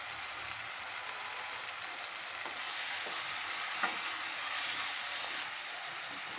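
Broccoli goes into a pan of frying onions and tomatoes, producing a dense, even sizzle with a few stirring knocks, steady and close with no voices.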